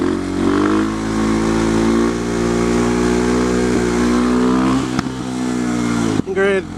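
An SM610 motorcycle engine revs hard and holds steady in second gear during a standing wheelie, loud and close, then drops off near the end.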